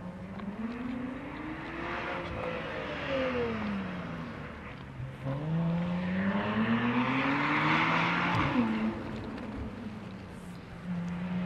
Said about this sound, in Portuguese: motor ecoa na cordilheira aqui, velho